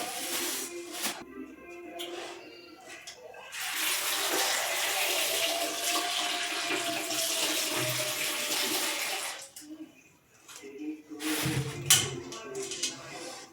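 Water runs steadily from a tap for several seconds, splashing over lemons being rinsed, with brief handling noises before and after.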